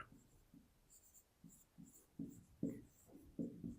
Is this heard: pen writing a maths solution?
yes